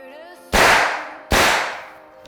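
Two sharp, loud gunshots at an indoor shooting range, about a second apart, each ringing out with a long decaying echo; a steady tonal hum sits underneath before the first shot.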